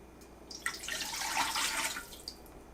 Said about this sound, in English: pour in 3 cups of water